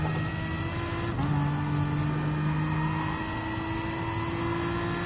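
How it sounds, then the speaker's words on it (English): A Corvette engine in the Gran Turismo Sport racing game holds a steady, sustained drone with a brief gear-change dip, revving evenly and continuously with no talk over it. "That was a Corvette"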